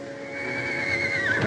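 A horse neighs loudly, a high whinny that rises and then trails off near the end, with faint hoof clatter underneath.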